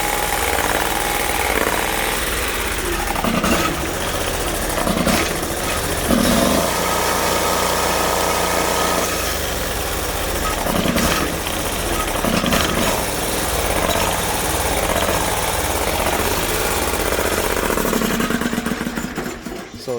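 A Bolens 1600H garden tractor engine runs steadily and loudly after starting, a continuous mid-pitched droning rumble with a slightly uneven idle that carries on without a break.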